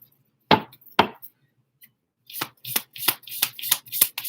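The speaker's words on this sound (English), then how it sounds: "Let me just cut the deck one more time here, guys. Sorry for all the shuffling" A deck of tarot cards is cut with two sharp snaps, then riffled in a rapid run of loud, crisp shuffling bursts, close up.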